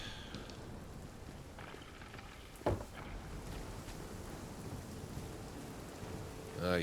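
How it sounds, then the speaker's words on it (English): Steady rain falling in the survival video game Nightingale, a continuous wash of patter throughout, with one sharp louder crack near the middle and a brief swell at the end. "Here's the rain."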